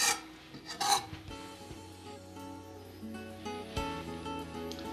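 A knife rough-chops a head of fresh cilantro for a sprout salad, making quiet, close rasping cuts and rubs, with a faint clink of kitchenware underneath and no talking.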